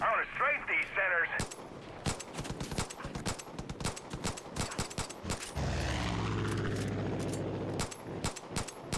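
Gunfire in Far Cry 5: sharp shots crack out at irregular intervals through the whole stretch, some close and loud, others sparser, over a rumbling engine-like drone and game sounds.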